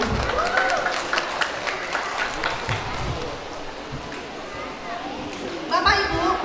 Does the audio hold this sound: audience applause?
yes